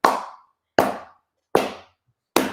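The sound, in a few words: prayer clap with cupped hands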